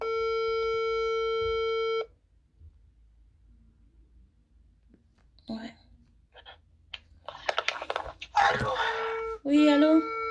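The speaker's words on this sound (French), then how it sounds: "Là, je suis en train d'appeler, hein." A single telephone ringback tone sounds steadily for about two seconds, then goes silent. Clicks and faint noises follow, and a voice answers and begins speaking near the end.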